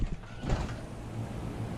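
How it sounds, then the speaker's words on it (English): A shop door being opened during small block Chevy engine work, giving a scraping, rumbling mechanical slide with a sharper burst near the start, then steady rolling noise with no talking. "we still gotta open the door up to get some light in here"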